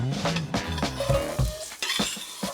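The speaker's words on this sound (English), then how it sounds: "Oil's in the pan, onions and garlic going in." Onions and garlic hit an oiled pan and sizzle close by, mixed with stirring scrapes and the clink of utensils on cookware as a beef ragu gets started.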